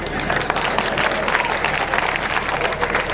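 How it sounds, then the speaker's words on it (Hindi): A crowd at an election rally in Malegaon claps and cheers, with dense, busy applause mixed with crowd noise and voices throughout. "यहां बजाओ तालियां।"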